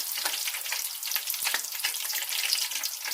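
Puri frying in hot oil, a steady bright sizzle and bubbling crackle that stays even and close throughout, with no voices.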